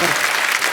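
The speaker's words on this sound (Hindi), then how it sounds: "जोरदार तालियां" Studio audience applause on a Hindi comedy talk show, a brief dense burst of clapping that stays loud and even throughout with no break.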